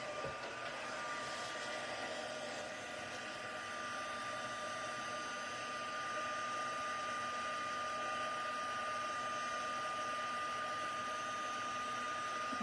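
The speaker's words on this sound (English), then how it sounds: "Now I'm going to use my heat tool" Heat tool blowing hot air to emboss a stamped card, a steady close whooshing hum holding at a constant level throughout, alone with no talking.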